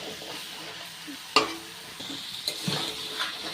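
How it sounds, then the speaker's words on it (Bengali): Vegetables for Bengali pui chhyachra, Malabar spinach stems with fish pieces, being stir-fried in oil with salt and turmeric, giving a soft steady sizzle with scraping stirs and a sharp utensil knock partway through, no talking. "শুধু এভাবে তেলের সাথে এটা কষিয়ে নেব"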